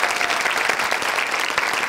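A talk show studio audience applauds with dense, steady clapping that fills the whole stretch, loud and close.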